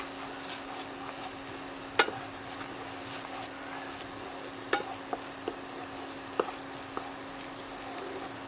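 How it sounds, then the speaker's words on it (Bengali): Spiced chhana kofta curry mixture stirred in a pan, a soft steady sizzle with scattered scraping clicks of the spoon at an irregular pace, close and moderately quiet. "আরও একবার ভালোভাবে নাড়িয়ে নেব।"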